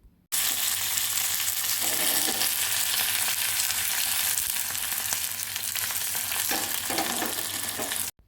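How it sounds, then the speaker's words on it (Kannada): Mustard seeds, chillies and curry leaves fry in a tempering on a low flame, giving a steady, close, unbroken sizzle and crackle that runs evenly for about eight seconds with no voices. "ಆಮೇಲೆ ಕರಿಬೇವಿನ ಎಸಳುಗಳು ಹಾಕಿ ಫ್ರೈ ಮಾಡಿಬಿಡಬೇಕು. ಚೆನ್ನಾಗಿ ಫ್ರೈ ಮಾಡಿಬಿಡಬೇಕು ಲೋ ಫ್ಲೇಮಲ್ಲಿ."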